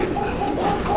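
A fancy shirting pigeon coos close by as it turns in circles, a low, throaty, rolling call that carries steadily through the short moment.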